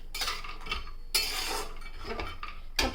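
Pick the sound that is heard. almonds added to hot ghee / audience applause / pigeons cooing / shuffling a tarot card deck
almonds added to hot ghee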